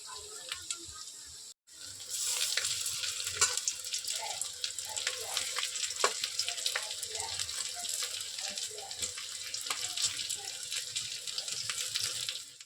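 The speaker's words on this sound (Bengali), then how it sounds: "উল্টে পাল্টে ভালো করে ভেজে নিতে হবে।" Egg and potato fritters deep-fry in about one and a half cups of oil, giving a steady, dense bubbling sizzle. It runs continuously at close range after a brief drop near the start.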